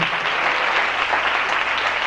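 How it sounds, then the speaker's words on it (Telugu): A crowd at an anniversary church gathering breaks into loud, sustained applause, dense and steady clapping filling the space with no voices over it. "చప్పట్లు కొట్టండి గట్టిగా"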